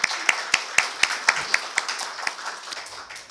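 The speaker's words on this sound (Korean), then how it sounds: "우리 박수로 한번 그분들 좀 격려해 드렸으면 좋겠습니다." Church congregation at a Sunday worship service applauding to encourage members, with scattered claps that thin out over a few seconds into a fading patter.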